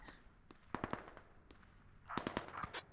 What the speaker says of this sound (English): So it looks like mortars are going out from Sarak